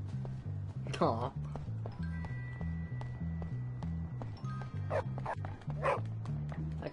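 A dog in the video game Bully barks and yips over a steady, rhythmic game music loop, with someone talking over it.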